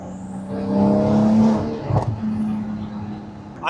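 A McLaren 750S exhaust at quarter throttle, a short rising burble that falls away, followed by a sharp crackling pop and a few fainter pops, heard from nearby with no talking.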